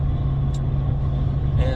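A 2007 Chevrolet Impala rolls along a road on a cool, sunny day, its engine and tire noise forming a loud, steady in-car rumble for under two seconds.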